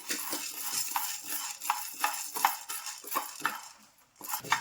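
Repeated scraping and clinking of a utensil stirring dry chana dal around a pan as it dry-roasts, in uneven strokes with short pauses.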